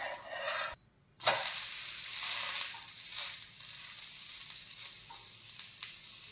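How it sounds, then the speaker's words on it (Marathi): An uttapam topped with onion, garlic and masala, flipped onto its second side, sizzles steadily on a hot griddle in close, continuous frying hiss. The sizzle drops out for a moment, then resumes loudly without any talk over it. "आता आपण खालच्या बाजूनेही 1-2 मिनिट भाजून घेऊयात"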